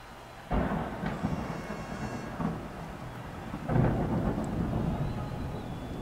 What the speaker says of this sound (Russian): Было такое ощущение, что молния сейчас прям у меня в дом собачит.